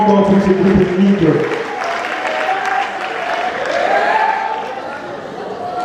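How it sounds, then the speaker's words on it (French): Audience applause at a university cultural exhibition, thick and loud at first with a voice over it, then continuing as a sustained crowd roar of clapping and cheering. "Une marque d'applaudissements encore pour ce groupe technique."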